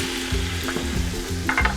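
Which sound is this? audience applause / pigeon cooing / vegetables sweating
vegetables sweating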